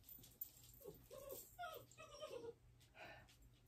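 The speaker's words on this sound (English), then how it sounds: "Do you hear Bo? He's saying hi" A dog whimpers and yips in a string of short, high whining cries, fairly close, with a faint steady hum underneath.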